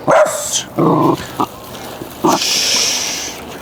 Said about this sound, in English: That's why he's barking the most.